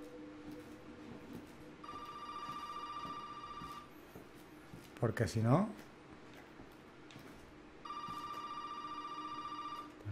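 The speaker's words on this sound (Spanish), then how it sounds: "Un teléfono. Supongo que habrá que cogerlo." Two long telephone rings sound in Resident Evil 7, separated by a pause in which someone speaks briefly; each ring is a steady, fairly loud electronic tone over a hushed background.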